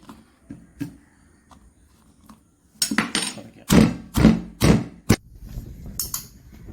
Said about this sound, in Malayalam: കൊച്ചുള്ളിയും വെളുത്തുള്ളിയും ചതച്ച് പച്ചമുളക് ഇഞ്ചി